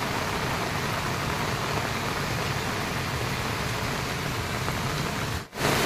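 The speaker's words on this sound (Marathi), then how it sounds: "एवढा पाऊस लागतो आहे" Heavy rain falls steadily over farm fields as water runs off them, a dense, even hiss that holds throughout and briefly drops out near the end.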